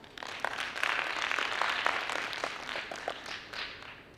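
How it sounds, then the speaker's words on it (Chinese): An audience at a staged ceremony gives sustained applause: many hands clap continuously at moderate loudness, and individual claps stand out, with no talk over it. "希望在场各位可以给他们尽力的掌声"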